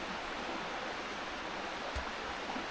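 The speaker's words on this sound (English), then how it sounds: "We're just following the river down." A river runs along a rainforest trail, a steady broadband wash of flowing water at low level with no voices.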